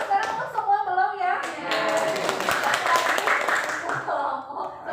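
Group of pupils in an Indonesian classroom clapping for a student team, a steady burst of applause mixed with chatter and children's voices, with a teacher's voice heard at the start.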